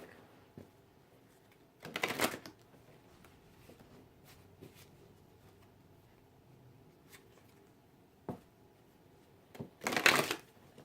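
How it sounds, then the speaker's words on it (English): Two short bursts of a tarot-style Angel Dream card deck being riffled, one near the start and one at the end, separated by quiet handling and faint taps. "Shuffle the Angel Dream card deck."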